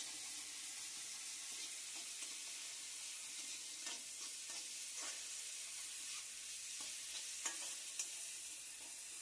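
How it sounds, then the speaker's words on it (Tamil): Carrots and beans being sautéed in a pan for Maggi noodles, a soft, steady sizzle with faint scraping stirs and light clinks of a spoon, quiet and without talk. "இப்போ சும்மா ஒரு 2 செகண்ட் அந்த பச்சை ஸ்மெல் போறதுக்கு மட்டும் வதக்கிக்கிட்டா போதும்."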